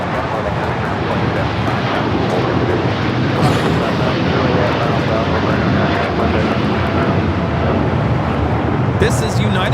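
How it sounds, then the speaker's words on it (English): A United Airlines Boeing 787-9 Dreamliner takes off at Los Angeles airport with a loud, sustained engine roar that fills the whole stretch, broad and constant, with brief lighter noises near the middle and end. "This is United Airlines 198 taking off to Shanghai on the 787-9 Dreamliner."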